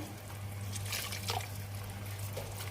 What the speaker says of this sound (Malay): Bila butter dah larut, kita masukkan air.